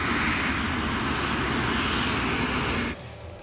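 A Lapa airliner, flight 3142, taxis toward runway 13 with its engines giving a steady, loud jet whine and roar that drops away sharply near the end.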